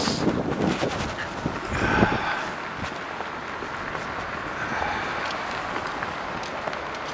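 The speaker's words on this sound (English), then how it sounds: "Oh man, it's windy, God almighty." Strong wind buffets the microphone outdoors beside a 1946 Bickle Seagrave tiller fire truck, a loud rumbling gust early that settles into a steady, rushing roar.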